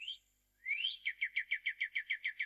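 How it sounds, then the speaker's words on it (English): A single bird gives a rising whistle followed by a rapid, evenly spaced series of about ten clear chirps, close and alone against quiet. "the chirping of birds"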